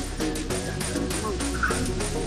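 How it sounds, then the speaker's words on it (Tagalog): Chickens cluck and squawk continuously, several birds calling over one another at close range with a steady outdoor background. "Damo mga manok Bisaya oh"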